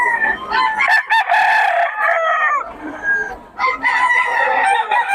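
A rooster crows loudly and close, several bursts of crowing and clucking with short pauses between, no talk.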